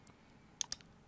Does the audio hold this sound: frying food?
no